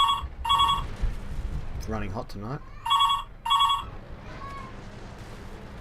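Someone speaks briefly between bursts of a loud, close telephone ringtone, which rings twice before he talks and twice more after.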